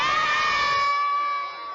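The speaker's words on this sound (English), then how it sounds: "Can I get a big cheer for Greg?" A crowd of schoolchildren lets out a loud, sustained cheer of shouts and high voices that tapers off within two seconds.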